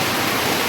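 Water pours steadily from a faucet during laundry, a continuous hissing rush with no break across the short moment.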